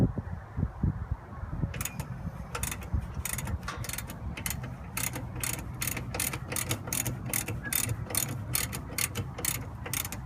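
Hand ratchet tightening rear brake bolts on a 2006 Cadillac CTS, a long run of rapid, evenly spaced clicks up close after a brief rustle at the start, heard alone.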